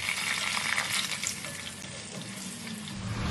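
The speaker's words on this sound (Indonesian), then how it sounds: "Nah, ini minyaknya kalau udah panas, bawang dan cabenya bisa kita masukin, kita goreng setengah matang." Shallots and chilies fry in hot oil, a loud, steady, close sizzle and crackle that holds without a break throughout, with a faint stirring scrape beneath it.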